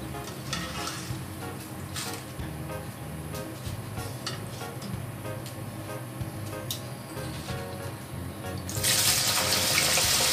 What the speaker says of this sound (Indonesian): Kita aduk supaya tidak gosong satu bagian, jadi biar rata.